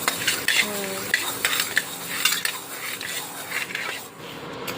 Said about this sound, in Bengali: এই যে আমি সাবু ভাজছি